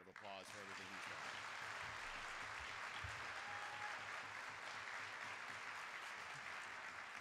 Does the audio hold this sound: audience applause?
yes